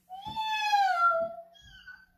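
A young voice imitates a cat's meow: one long, rising-and-falling mew followed by a shorter, softer second one, close by.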